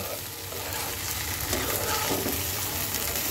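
Pre-fried soybean chunks being sautéed with spices in a pan, producing a dense, loud, steady sizzle close up with no talk.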